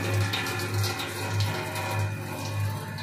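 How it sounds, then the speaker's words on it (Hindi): Water runs from a hose pipe into a small 50-litre shampoo mixer machine, a steady continuous rushing flow with a low pulsing pump-like hum underneath, close and alone with no voices. "पानी जो है वो मिक्सर के अंदर जाना शुरू हो गया"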